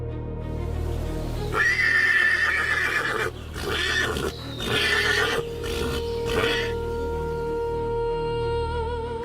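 Stallions fighting beside a pond on the savanna, with loud, shrill neighs and squeals rising repeatedly over heavy scuffling and thuds, close and intense throughout.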